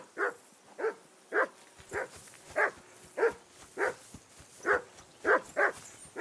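A dog barks again and again in the medieval world of Kingdom Come: Deliverance 2, about ten sharp, evenly spaced barks at moderate distance over a quiet background.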